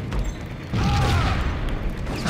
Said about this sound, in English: Imagine walking into a fucking explosion.